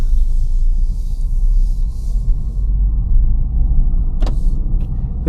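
Interior cabin sound of a Honda Civic Type R, a front-wheel-drive car, driving at night: a steady loud low road and engine rumble throughout, with a brief mechanical whir near the end.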